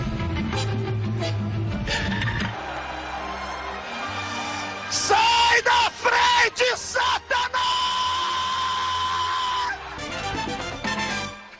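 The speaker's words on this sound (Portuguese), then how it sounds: "o grito é meu" A man's loud, drawn-out scream repeated in bursts, famous from a viral internet clip, with other voices and broken, choppy shouting around it.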